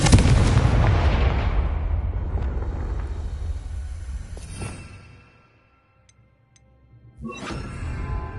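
Confringo spell blast in Hogwarts Legacy: a loud close explosive burst that rumbles and decays over about five seconds into near silence, followed by a brief sharp crackling hit.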